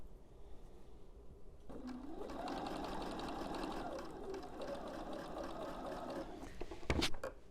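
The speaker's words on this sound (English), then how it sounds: "take it to the sewing machine. I usually try to start with the blunt end first and then sew down to the point" A sewing machine stitches quilt fabric pieces for an autumn postcard quilt in a steady, continuous run of motor hum and needle chatter, loud and close, followed by a brief sharper clatter near the end.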